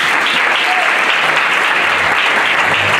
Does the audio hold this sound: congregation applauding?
yes